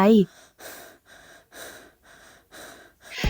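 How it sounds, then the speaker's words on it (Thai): Heavy, rhythmic panting from a woman in a Thai yuri audio drama: about six close, evenly spaced breaths, each a breathy in-and-out huff, opening with a brief vocal sound. "เริ่มหายใจหอบที"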